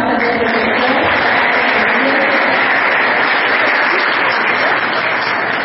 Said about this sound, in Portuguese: Uma salva de palmas para o professor.